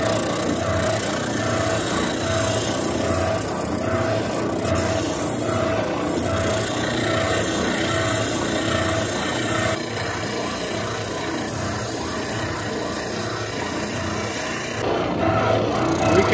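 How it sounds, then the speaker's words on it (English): A spindle sander shapes an acoustic guitar neck, giving a continuous loud motor hum with a rough abrasive grind that holds steady throughout, with no voices. "if you wanna get some of the material removed with the spindle sander"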